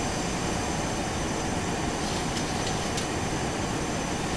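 Steady, loud cockpit engine roar of a Boeing 737-200 in the X-Plane 11 flight simulator, a constant broadband drone with a few faint clicks partway through.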